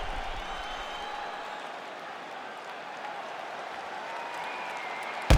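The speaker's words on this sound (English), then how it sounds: "So the crowd voicing its appreciation after that round." Crowd applause from the video game EA Sports UFC 5 after a round of a Daniel Cormier fight, a steady wash of clapping and cheering held at an even level throughout, ending in a brief sharp burst.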